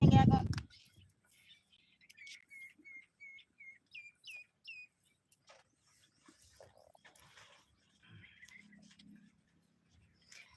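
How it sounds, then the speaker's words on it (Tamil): A series of short, bright bird chirps in a forest repeats in quick succession after a loud thump at the start, with faint rustling and a soft bit of murmuring later. "பறவைகள் சவுண்ட் எல்லாம் கேக்குது சூப்பர்"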